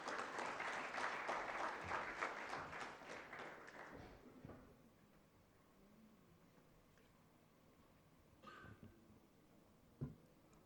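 An audience breaks into applause to welcome a speaker at an inauguration, strong clapping for about four seconds that dies away into quiet room noise with a few scattered taps.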